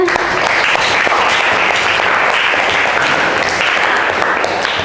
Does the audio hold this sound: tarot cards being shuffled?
no